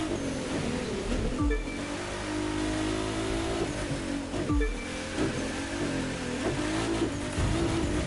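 A GT3 race car in The Crew 2 speeds along a highway, its engine droning continuously with a couple of quick gear-shift dips and rising revs, loud and close.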